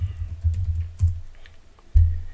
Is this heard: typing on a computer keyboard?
yes